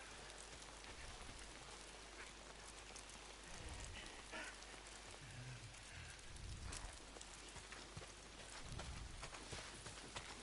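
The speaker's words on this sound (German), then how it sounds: "Oh, verdammter Regen." Steady rain pours across the open world of the video game Days Gone, a dense, continuous hiss of drops on surfaces with a few soft low thumps, alone without voices.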